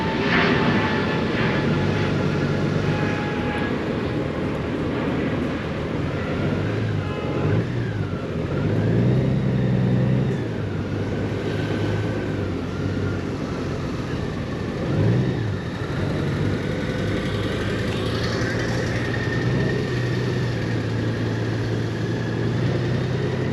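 A 2021 Honda Gold Wing DCT motorcycle engine runs under steady rider-side wind rush while brake and throttle are applied together, its low drone swelling and easing in several gentle revving surges through a busy area.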